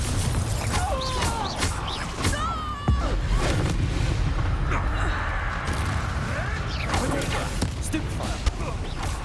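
A Confringo blasting spell explodes in the Hogwarts Legacy video game as a dense, booming blast amid constant battle noise, with a voice shouting over the fight.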